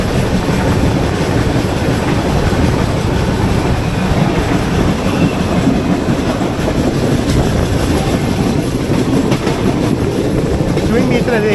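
A passing train hauled by twin diesel locomotives near Bellary Cantonment station gives a loud, steady rumble with rolling wheel clatter that fills the whole stretch without letup.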